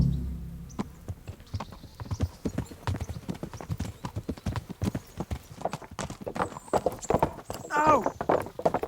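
Horse hooves clip-clop in the medieval video game Kingdom Come: Deliverance, a steady, close run of sharp hoof strikes on the ground, with a whinny near the end and a character speaking over it.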